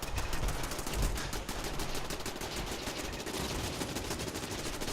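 Rapid automatic gunfire rattles continuously in Fallout 4, dense bursts of shots blending into a steady, busy barrage with no talking over it.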